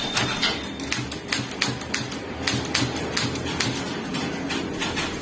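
Keys struck in a fast, even patter of crisp clicks at close range, typing in English on what sounds like a mechanical typewriter, continuing for several seconds with no voices.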